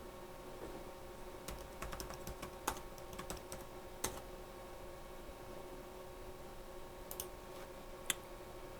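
Computer keyboard typed on during OPNsense firewall setup, faint scattered keystrokes and clicks in short bursts with pauses, close but quiet, no talk.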